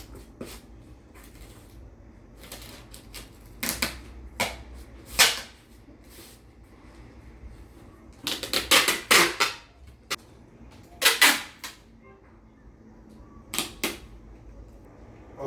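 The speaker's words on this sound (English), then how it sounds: "I'm just gonna tape it." Packing tape pulled and pressed onto a package, heard as scattered sharp rips and taps with short bursts of tearing, close by in a quiet room.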